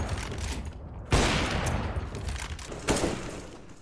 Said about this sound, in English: the flatline is an absolute beast of a weapon